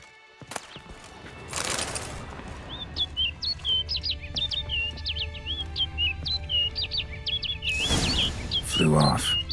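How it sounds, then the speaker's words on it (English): A bird in the video game The Witcher 3: Blood and Wine chirps in a steady series of quick, bright calls. Horse hooves clop and ambient game sounds run beneath, with a few louder rustling bursts. "Looks like the bird's leading me somewhere."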